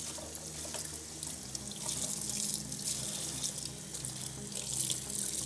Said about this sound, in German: Und jetzt wird der Strang bei lauwarmem Wasser vorsichtig nochmal ausgedrückt.